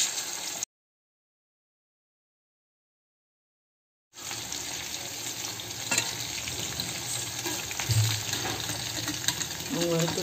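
Raw banana slices frying in hot oil, a steady close sizzle and crackle that starts abruptly after a few seconds of silence and holds at an even level, with faint stirring bumps near the end.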